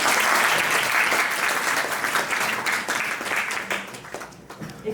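An audience at an entrepreneurship lecture session claps loudly and steadily, the dense applause thinning and fading toward the close.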